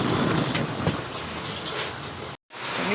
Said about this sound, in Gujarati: મિત્રો હજી તમે જોઈ શકો છો હજી વરસાદ ચાલુ છે, હજી બંધ નથી થયો